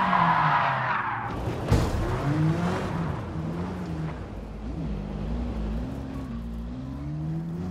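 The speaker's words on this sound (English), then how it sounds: "I managed to get a spin on coming out of turn number 11." A race car in Gran Turismo Sport spins out of a corner, tires squealing and skidding with wavering pitch over a loud, close engine drone that keeps running as the car recovers; no voices.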